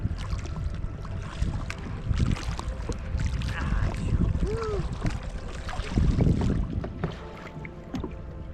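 A pedal boat moving on the lake at Tapola, Maharashtra: soft churning and sloshing of water under steady wind buffeting on the microphone, with faint background voices.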